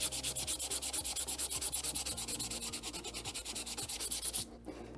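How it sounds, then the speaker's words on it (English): Sandpaper rubbing back and forth over a 3D-printed PLA Halo Needler, a steady run of rapid, close, rasping strokes in an even rhythm that stops abruptly near the end. "So real quick, we'll just sand this down."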